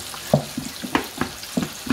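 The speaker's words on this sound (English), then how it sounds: "I'm going to go ahead and let that fry for a second." Flour-coated pork chops frying in a covered pan, with soft sizzling crackle punctuated by a few sharper pops and spits at irregular intervals, fairly close and moderately loud, with no voices.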